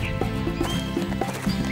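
A horse whinnies with a rising cry while hooves clip-clop in a steady rhythm close by, the horse carrying sacks of salt home. No voices are present.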